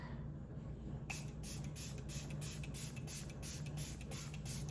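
Hypochlorous acid spray is misted as a facial toner, with a quiet pause followed by a rapid series of about ten short, even hissing pumps over a low background hum.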